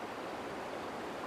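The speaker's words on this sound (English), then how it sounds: "as the volume increases, the water rushes even faster" Snowmelt-swollen river in Yellowstone rushing fast, a steady dense broadband roar of churning water, continuous and fairly close with no voices.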